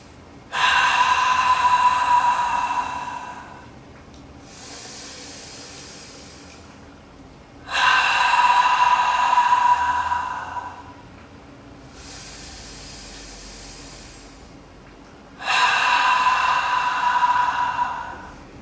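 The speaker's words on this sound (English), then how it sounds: "Inhale through the nose" Deep nasal inhalations during a guided breathing moment, heard as three long, airy, hissing breaths about seven seconds apart, each lasting around three seconds, close and fairly loud, with softer breathy exhales between them.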